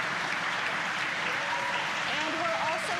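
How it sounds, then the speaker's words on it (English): Loud cheering and applause from a crowd of staff at SpaceX Mission Control in Hawthorne as the second stage engine ignites during the Crew-5 launch, a steady roar of clapping and shouts throughout with voices mixed in. "confirmed by the loud cheer behind us here at Mission Control Hawthorne"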